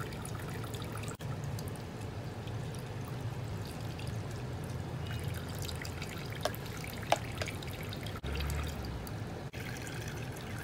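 Tap water runs and pours steadily into a sink while dishes, cups and plates, are hand-washed, with a few faint clinks and drips rising above the constant flow.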